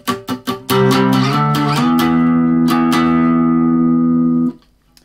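An acoustic guitar plays a short tune with the flexible end of a soft red Landstrom Sharkfin GP101 pick, several quick plucked notes first and then a loud ringing chord-like passage that sustains and then cuts off, close and alone.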